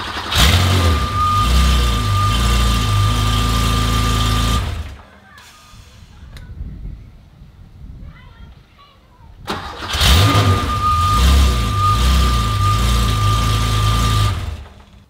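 Car engine starting after a starter and ignition repair, two loud close bursts of cranking and running engine separated by a quieter pause with small clicks and rustling.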